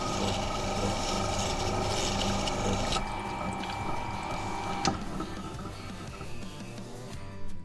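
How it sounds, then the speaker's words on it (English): Steady abrasive grinding of a metal chisel blade against a wheel, continuous and fairly loud, with a brief sharp scrape partway through and the rasp easing toward the end. "we're getting that all ground down"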